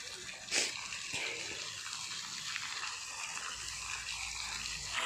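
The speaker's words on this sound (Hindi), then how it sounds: "केते सुंदर भाव रे पानी पड़ुची" Water falling at the Kapileswara temple in Kendujhar, a steady broadband rush of splashing water that runs unbroken throughout, fairly loud with no voices.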